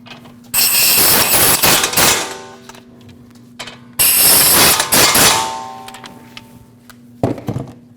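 A ratchet wrench tightens the brake bracket bolts on a 2014–2023 Jeep Cherokee, making bursts of rapid metallic clicking with clanks between them, loud and close, with no talk.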